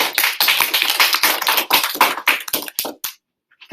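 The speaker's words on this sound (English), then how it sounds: "Round of applause." A small group claps in a quick, dense burst that thins into a few scattered claps before falling silent.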